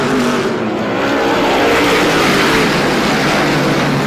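Race cars roar by at Star Speedway during a feature event, a loud dense engine wash that holds steady throughout with no break.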